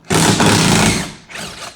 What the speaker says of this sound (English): So I'm going to go ahead and back this screw out.